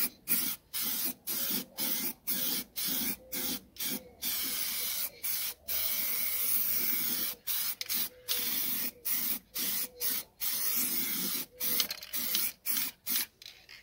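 Short hissing bursts from a spray paint can with a pointed nozzle coating a car wheel, about two dozen sprays in a steady on-off rhythm, close and loud, with no talk.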